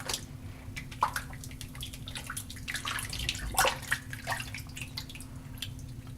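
Running tap water splashes as hands are rinsed after using shave soap, a close, steady wash with small irregular splashes over a low hum.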